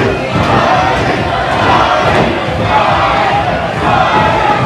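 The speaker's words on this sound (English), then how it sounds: "Crowd chanting money." Dense arena crowd roaring and chanting continuously during a wrestling Rumble match, loud and sustained with rhythmic swells throughout.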